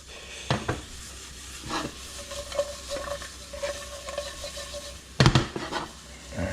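Hot mushrooms sizzle in a pan over medium heat, a steady close frying hiss broken by several sharp scraping shakes and knocks of the pan, with no voices.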